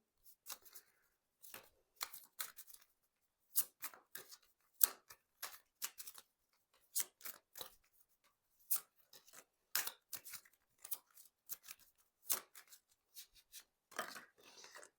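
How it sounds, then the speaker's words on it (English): Tarot cards are handled and shuffled in quiet, crisp bursts of flicks and snaps, coming in irregular clusters across the whole stretch. "I'm just being told to get a couple more cards here."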